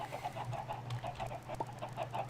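A flock of chickens in a Minecraft modpack game clucks close by in a rapid, continuous run of short, repeated clucks.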